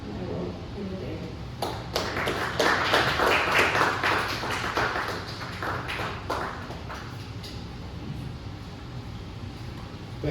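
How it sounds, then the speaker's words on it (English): Audience applause at a poetry reading event, a dense sustained clapping that swells and runs for several seconds before thinning out, with a voice speaking over it. "Let's give Megan another round of applause."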